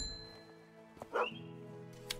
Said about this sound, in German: Der Hund hat Hunger